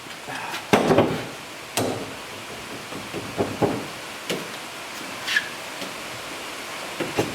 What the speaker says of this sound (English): according to Alan Little, this guy gets clamped on the back like this